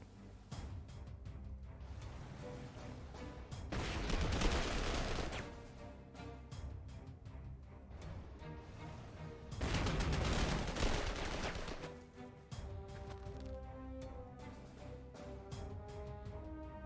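Artillery fire pounding a German bunker in the war strategy game Panzer Corps 2, with two long, heavy rumbling barrages of blasts separated by quieter stretches of scattered distant shots.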